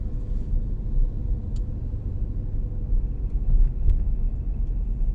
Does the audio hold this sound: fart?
no